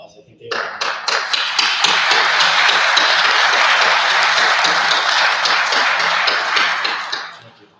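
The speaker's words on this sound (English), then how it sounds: "Class 494, please give your guests a round of applause" Audience at a Corrections Officers Academy Class 494 graduation breaking into loud, dense applause that builds quickly, holds steady for several seconds, and tapers off at the end.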